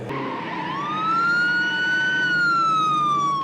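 A film sound effect of a wailing siren rising and falling in pitch over a rumbling vehicle engine, loud and fairly close, with no voices.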